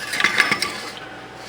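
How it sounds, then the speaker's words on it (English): A bolt carrier slides into the upper receiver of an FN MK20 rifle, a quick run of close metallic clicks and scrapes that fades to quiet within about a second. "Let's slide the bolt carrier in"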